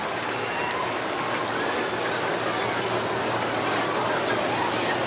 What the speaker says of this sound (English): A pretty good round of applause for Chris Rock in this one